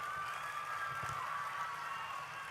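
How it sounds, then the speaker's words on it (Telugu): Audience applause at a high school opening event in Nellore, a steady sustained clapping and crowd murmur from a large gathering, even in level throughout. "అందరూ గట్టిగా చప్పట్లు పెట్టాలా."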